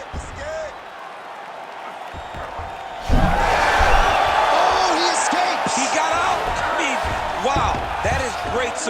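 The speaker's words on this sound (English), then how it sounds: "huge pop from the crowd as the fighters get back up to their feet" An arena crowd in EA Sports UFC 5 erupts into a loud sustained roar and cheering midway through a fight, rising abruptly and swelling over the rest, with a commentator talking over it.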